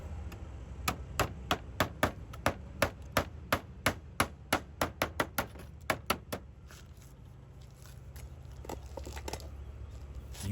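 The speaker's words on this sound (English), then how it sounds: "Nail the copper strip using at least 1 copper nail," A hammer drives a copper nail through a copper strip on a slate roof, giving about twenty sharp, evenly spaced metallic taps that stop two-thirds through, leaving quieter rustling.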